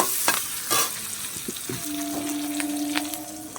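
Chopped capsicum hits a hot frying pan and sizzles while being stirred, with a few sharp scrapes and clinks early on and a soft, steady fry underneath.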